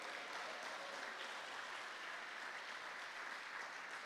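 Congregation clapping steadily during a church service, a dense continuous patter of many hands at even loudness with no voices over it.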